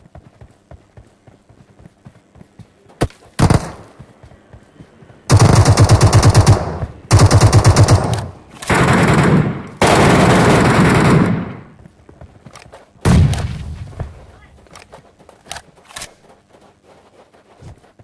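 Gunfire in the video game MetroRoyale: several long loud bursts of automatic fire in quick succession, separated by brief pauses and scattered single shots and clicks, with no talk.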